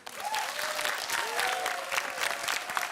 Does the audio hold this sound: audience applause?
yes